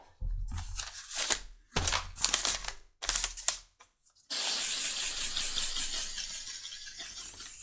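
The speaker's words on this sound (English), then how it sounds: "I'm just going to go over it with some leather sheen spray and lock all that in and finish it up." Leather sheen finish sprayed onto a leather pancake holster, several short hissing bursts of the aerosol followed by one long steady spray, close and fairly quiet.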